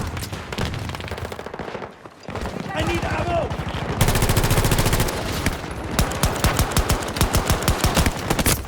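Very rapid automatic gunfire from a gun in Battlefield 2042 rattles in dense, loud bursts, pausing briefly before firing again in fast, even volleys.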